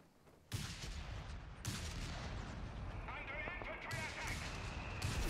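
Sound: mortar fire in a video game

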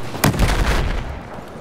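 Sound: cannon firing in video game Battlefield 4

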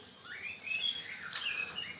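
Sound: white-rumped shama singing

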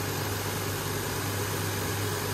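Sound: 2004 Lexus GS 300 engine idling

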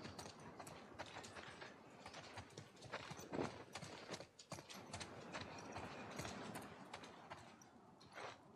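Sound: horse hooves clip-clopping in The Last of Us Part II video game

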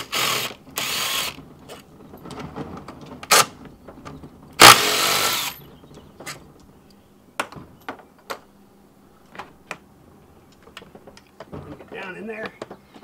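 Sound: ratchet removing throttle body bolts on Ford Mustang

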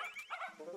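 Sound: Shiba dog barking in video game Yo-kai Watch 4

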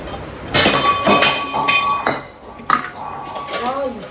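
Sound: dishes and pots falling and clattering

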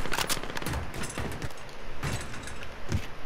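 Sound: gunfire in a video game

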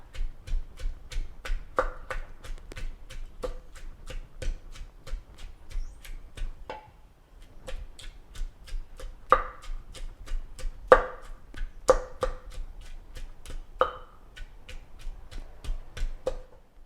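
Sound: pounding garlic and shallots in a mortar

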